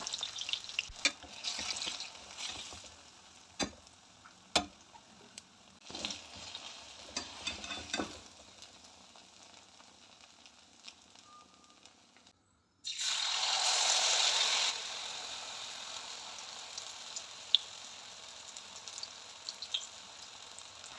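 Banana fritters (pazham pori) fry in oil with a soft steady sizzle punctuated by occasional clicks and taps, then a sudden louder hissing burst midway that settles back into quiet bubbling.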